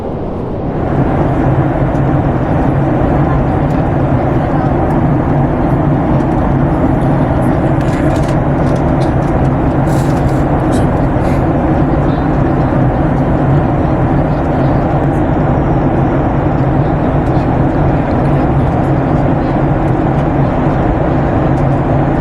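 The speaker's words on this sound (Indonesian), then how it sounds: "pesawat sudah bersiap untuk mendarat" An airplane cabin during descent on a flight from Merauke to Jayapura, filled with a loud, steady broadband engine and air roar that stays constant throughout, with faint clicks and no clear talking.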